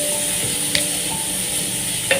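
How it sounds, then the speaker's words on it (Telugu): Grated carrot cooks in a hot pan for coriander fried rice, giving a steady, close frying hiss with a couple of light spatula taps and no talking. "ఇప్పుడు ఇలా క్యారెట్ మగ్గుతుంది కదా"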